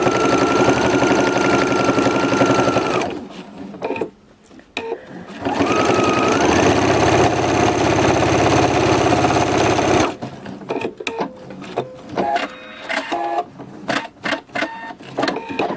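A sewing machine stitching lines across a quilt runs in loud steady bursts of rapid mechanical chatter, with short pauses between runs and a stretch of slower, uneven stitching with clicks toward the end.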